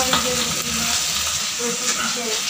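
Food fries in a pan at home with a soft, steady sizzle and faint stirring, while people talk quietly in the background.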